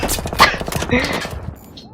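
Battlefield 3 multiplayer gunfire: a fast, close series of sharp shots over about a second while a voice talks excitedly, then a quieter tail.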